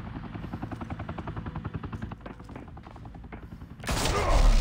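Gunfire in the video game Batman: The Telltale Series, a rapid rhythmic burst of automatic shots with thumping low rumble, ending in a louder roaring blast of noise.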